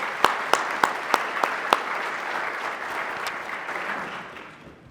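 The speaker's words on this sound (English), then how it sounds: "let's recognize her with another round of applause" Audience applause at a police awards ceremony: a hall full of people clapping steadily for several seconds, a few sharp nearby claps standing out at the start before the sound gradually fades.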